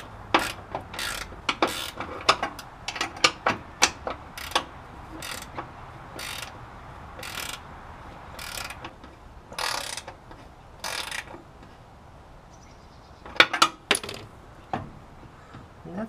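Hand ratchet tightening bolts on the front end of a 1972 Oldsmobile Cutlass, with repeated bursts of sharp clicking strokes separated by pauses, close and clear in a quiet workspace.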